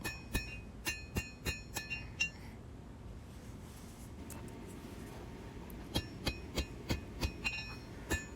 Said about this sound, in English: I use the edge of the anvil, the corner of the anvil, and I actually used it to fuller the stock